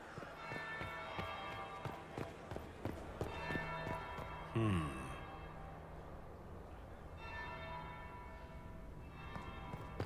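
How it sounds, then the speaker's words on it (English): A bell tolls once partway through a Dragon Age: Inquisition game scene, a brief resonant strike with a short decay over faint footsteps and ambient background. "That would be the second bell."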